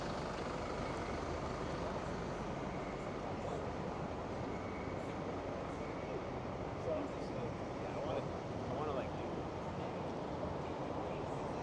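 Rush hour gridlock on York Street with stuck buses fills the air with a steady low rumble of idling and crawling heavy vehicles, a continuous dense traffic drone with no clear breaks.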